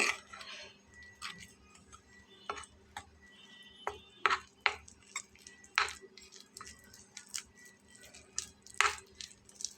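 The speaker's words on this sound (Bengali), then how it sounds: "বেসনটা গুলে নেব" Gram flour batter with salt and water is mixed in a bowl for potato cutlets, making quiet, irregular spoon clinks and soft wet squishes against low background hum.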